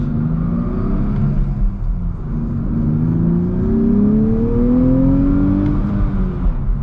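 A Nissan Z sports car engine hums steadily from inside the cabin, then revs up with a rising tone as it accelerates, a loud continuous drone throughout.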